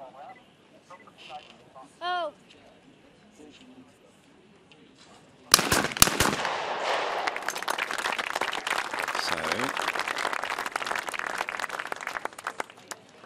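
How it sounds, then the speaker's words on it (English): Shotgun shots at a women's skeet shooting final, a sharp loud blast followed by echoing reports and a swell of crowd applause and cheering that carries on under an announcer's voice. "She has to shoot 2 of these to be level with Elena."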